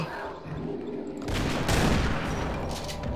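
Rapid gunfire in the video game Half-Life Sven Co-op, a dense continuous burst of shots that swells louder partway through, close and loud with no talking.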